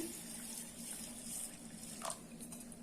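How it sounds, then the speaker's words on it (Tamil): Water running from a tap and pouring over moong dal and raw rice in a bowl for soaking, a steady moderate splashing flow with a brief louder gush near the end. "நம்ம தண்ணி ஊற்றி"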